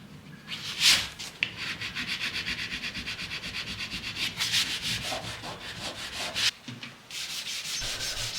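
An orbital sander works over the surface of a 1940s Art Deco wooden sideboard, a close, steady buzzing rasp broken by a few brief lifts and resets of the tool.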